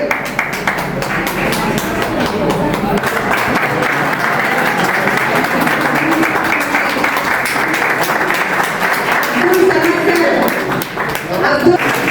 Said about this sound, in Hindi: प्लीज जोरदार तालियां